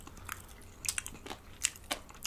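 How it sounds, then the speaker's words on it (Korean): Quiet, wet smacking and crunching come from someone chewing while eating, heard as a few sharp, irregular mouth clicks close to the listener with no talk. "막 이렇게 쩝쩝 소리 내는 거 있잖아요"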